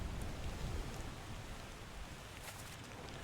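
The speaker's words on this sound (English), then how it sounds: "And now we get the sounds of the rain to listen to while we deduce." Steady rain pours down continuously in the video game Return of the Obra Dinn, a dense hiss of drops with a few brief brighter spatters, filling the whole stretch without any voices.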